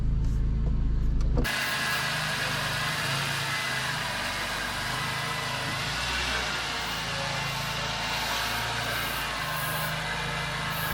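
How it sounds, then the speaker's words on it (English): The power window of a hurricane flood-salvaged BMW Z3 M Coupe with an S54 engine whirs steadily down for several seconds after a brief initial noise, close and fairly faint against a low engine hum. "Hey, the window goes down."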